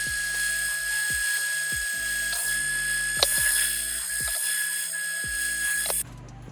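A rotary sander works on a Glock pistol frame during a G17 to G19 frame chop, buzzing steadily with a series of repeated ratcheting bursts and one sharp click near the middle.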